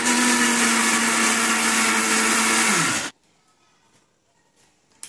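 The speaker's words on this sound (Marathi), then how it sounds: "इथे आपण 7 तास डाळ तांदूळ सर्व आपण भिजत घातले होते, ते आपण मिक्सरला बारीक करून घेऊया" A mixer grinder whirs loudly as it grinds soaked dal and rice, a steady high motor roar for about three seconds before it winds down and cuts to near silence, ending with a faint knock.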